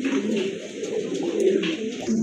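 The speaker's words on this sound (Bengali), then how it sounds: "দেখেন কবুতর দেখেন মাশাআল্লাহ।" Pigeons of show varieties at a bird sale coo close by in low, rolling, throaty bursts that repeat and overlap in a continuous murmur, with no talking heard.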